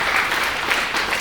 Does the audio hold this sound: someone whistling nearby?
no